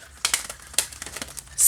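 Oracle cards being shuffled by hand, a quick run of crisp papery riffles and flicks in uneven bursts, close and fairly loud, with no talking.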